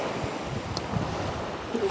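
Wind rushes steadily across the microphone in a continuous broadband roar, with faint surf mixed in and no clear speech.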